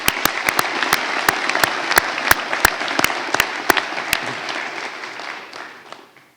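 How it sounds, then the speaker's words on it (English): Applause at a Drexel University commencement for hospitality and sports management graduates, a steady audience clapping with sharp individual claps standing out near the microphone, fading away over the last couple of seconds. "One more round of applause."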